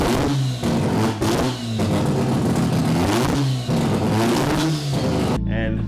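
A 2017 Toyota 86 fitted with a 13B rotary engine revs loudly and harshly, its pitch climbing and falling in repeated blips up close before cutting off abruptly near the end.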